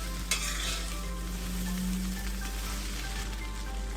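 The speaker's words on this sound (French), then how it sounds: "Maintenant que tout cela est bien cuit, j'ajoute mes crevettes cuites." Cooked shrimp being stirred into pad thai frying in a pan, a continuous loud sizzle with scraping and stirring movements throughout, no voices.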